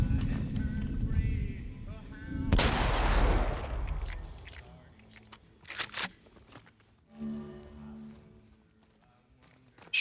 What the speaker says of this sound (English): Shotgun to the face should do.